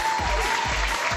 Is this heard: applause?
yes